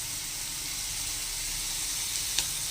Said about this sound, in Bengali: এবার এর মধ্যে দিয়ে দেবো আদা রসুন জিরে বাটাটা দিয়ে দেবো।